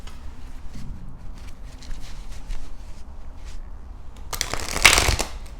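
Crystal healing oracle cards are shuffled with soft, papery riffling and light tapping, ending in a louder, brighter ruffle near the end.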